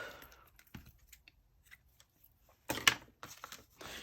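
Scissors snip through paper for a junk journal craft, a series of short, crisp cuts spaced irregularly, with louder rustling snips clustered toward the end.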